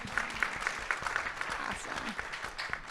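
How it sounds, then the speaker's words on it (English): Audience clapping at a community digital equity planning meeting, a moderate steady patter of hands with several sharper claps standing out, fairly quiet and diffuse across the room. "clap, let's clap for those people"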